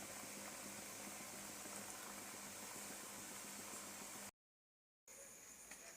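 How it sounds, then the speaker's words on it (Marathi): A pot of pigeon pea pod amti curry bubbles at a low steady boil, faint and constant, broken by a short silent gap before the simmering resumes. "आता उकळी आलेली आहे."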